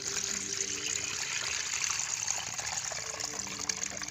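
Water from a soaked plant mixture pours and trickles steadily through a strainer, a constant close gushing flow with no talk.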